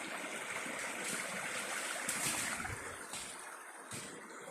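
Stream water rushes and gurgles in a steady, dense wash close by, with no voices.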